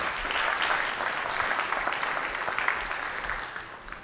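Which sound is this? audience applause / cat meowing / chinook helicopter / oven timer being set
audience applause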